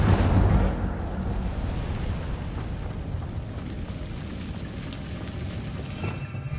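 A fire spell bursts in the video game Hogwarts Legacy, a loud whooshing blast at the start that settles into a sustained roaring rumble of flames, alone with no talk.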